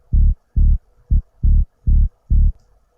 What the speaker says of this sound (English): The sub, which sounds like this.